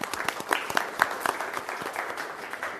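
Applause at an El Cajon city council meeting, a modest scattering of hand claps from a small room crowd, uneven and fairly quiet, over about three seconds.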